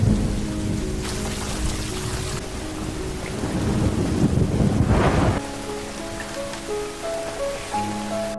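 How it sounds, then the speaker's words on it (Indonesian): Steady rain pours at night with a deep roll of thunder rumbling underneath, the downpour loud and close, while a soft tonal music bed plays in the background. "Pada suatu malam, hujan turun."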